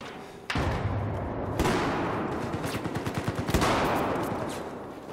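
MP7 submachine gun firing in Battlefield 4, sharp close bursts of rapid shots with a quick rattling rhythm and short pauses between volleys.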